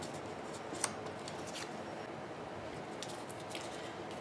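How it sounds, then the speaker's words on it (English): Scrapbook pattern paper being torn by hand to strip off excess, faint soft ripping bursts in a few short spurts against a quiet background. "We'll rip off some of the extra that we don't need."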